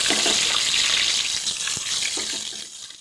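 Star anise, marathi moggu and bay leaf frying in hot oil for chana biryani, giving a steady, close, bright sizzle that fades slightly toward the end.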